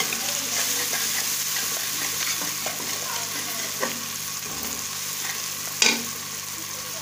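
Dal roasts in a pan with a steady, close sizzle as it is stirred, broken by soft scrapes and one sharper clatter of the spoon near the end; red chilli and salt go into the mix, no talking.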